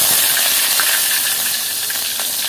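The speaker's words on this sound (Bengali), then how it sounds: "এখন দিয়ে দিচ্ছি কেটে রাখা রসুন।" Chopped garlic hits a hot pan and sizzles loudly, a dense steady hiss and crackle with no talking, while greens are being cooked at home.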